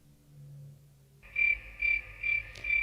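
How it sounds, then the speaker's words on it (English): Pet crickets chirping indoors, a steady rhythmic trilling that starts abruptly and pulses in regular bursts, close and moderately loud after a quiet low hum. "That is my crickets."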